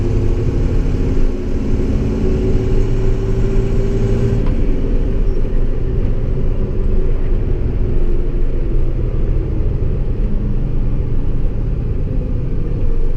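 An International Durastar truck with a Cummins 6.7 engine accelerates foot to the floor on a highway, a loud steady low engine drone and road rumble filling the cabin without pause.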